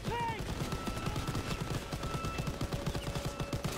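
Rapid bursts of automatic weapon fire rattle in a Call of Duty WW2 battle, a dense, steady chatter of shots at moderate volume.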